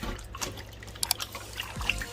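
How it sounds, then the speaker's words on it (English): Raw pork being rinsed in water in a kitchen to wash off vinegar before jerk seasoning, with soft splashing, trickling and a few small drips, faint and close. "And this is the final wash. Just to get the vinegar off the pork."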